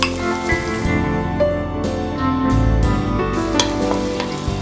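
Chopped large onion frying in hot oil in a pan, a steady dense sizzle with occasional clinks and scrapes of stirring, loud and close with no voices.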